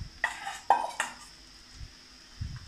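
Mashed raw banana being stirred in a pan, heard as a few close metallic spoon clinks and scrapes against the pan in the first second, followed by quiet soft stirring thuds, with no talk.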